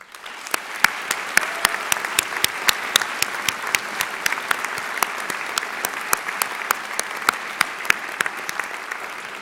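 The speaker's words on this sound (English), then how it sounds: "I'd like everyone here to give a round of applause to all of our award nominees and our award winners" A large audience at a university Founders Day awards ceremony claps steadily for several seconds, a dense, even wash of applause with sharper individual claps standing out.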